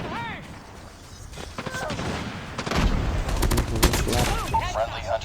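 Light machine gun fire in Call of Duty Mobile: dense, rapid bursts of automatic gunfire over game effects, with excited talk from players mixed in.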